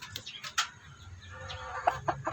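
A Shamo Aseel broodcock rooster clucks in short, soft bursts, with a few sharper clucks near the end, heard fairly close against a quiet outdoor background.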